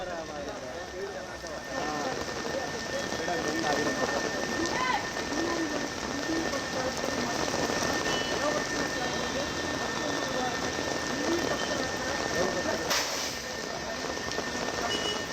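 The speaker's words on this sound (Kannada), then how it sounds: "ಮಳೆ ಬರ್ತಾ ಇದೆ" Steady rain pours down on a Bangalore street with a constant hiss, loud and close, continuing evenly throughout.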